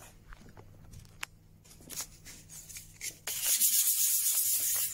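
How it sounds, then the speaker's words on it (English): Hand sanding a wooden clock counterweight with sandpaper, soft rubbing scrapes at first, then a louder, steady hiss of grit on wood near the end, close up. "Moving my hand around on the sandpaper to get a new part of the sandpaper to work its magic."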